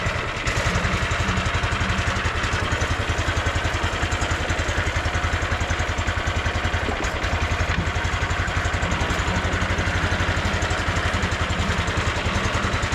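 A T-18 tractor runs in first gear, its single-cylinder diesel engine putting out a loud, close, steady rapid chugging that holds an even rhythm throughout.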